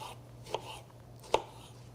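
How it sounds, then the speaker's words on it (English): Two sharp knife cuts through a lemon on a cutting board, separate and close, over a quiet kitchen background. "I'm going to cut it lengthwise, and then I'm going to flick any seeds out, and then cut that into slices."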